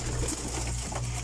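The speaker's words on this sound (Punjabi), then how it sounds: "ਲਓ ਜਨਾਬ ਇਹ ਵੈਸ਼ੀ ਕਬੂਤਰ ਹੈ" Soft, steady cooing from a Vaishi pigeon kept by a pigeon fancier, low and continuous through the short moment with no talk over it.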